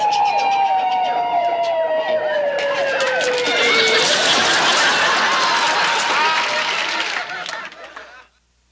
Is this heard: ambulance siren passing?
yes